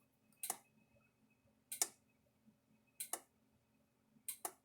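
A Kencove K8 electric fence charger under repair clicks in sharp, regular pulses about once every 1.3 seconds, each a bright snap with a short thump, close by and fairly quiet against a faint background hum.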